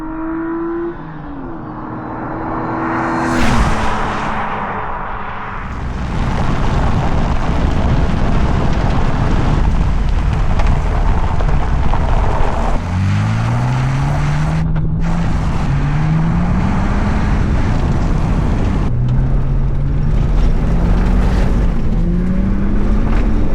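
A sports car driven hard on a road, engine roaring and climbing through revs in repeated rising sweeps with a sustained loud rush of tyre and exhaust noise.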